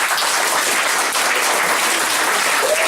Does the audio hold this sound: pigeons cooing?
no